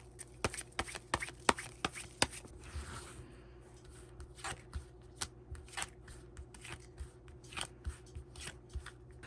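Tarot cards being shuffled and drawn at close range: a quick run of crisp card riffles and slaps, then a steady string of separate soft flicks and taps, quiet, with no talking.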